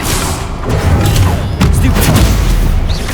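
Spell casting in the video game Hogwarts Legacy, the Expelliarmus disarming charm amid combat: loud booming impacts and thuds over dense game effects, continuous throughout with no talk.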